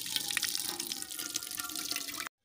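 Water from boiled drumstick flowers being drained off, a steady continuous pour and splash with dripping, fairly close and without any talk.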